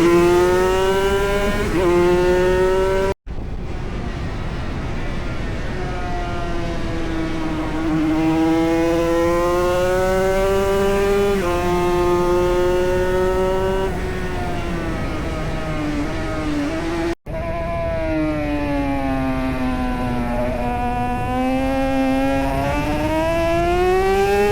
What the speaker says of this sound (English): you can hear the gearbox starting to play up and jump gears in this race.